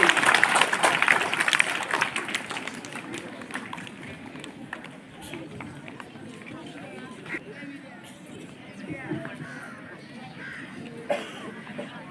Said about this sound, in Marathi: सर्वांनी जोरदार टाळ्या वाजवायचे आहे.